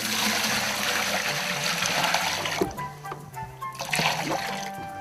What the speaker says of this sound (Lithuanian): dabar pilam vandenuką